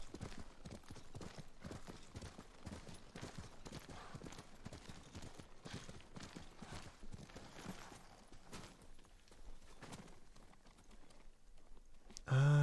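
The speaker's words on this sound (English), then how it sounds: "I'm going to get off the horse." A horse's hooves clip-clop in the Ghost of Tsushima video game, a steady, quick rhythm of soft hoof beats at moderate distance that runs the whole way through and stops just before the end.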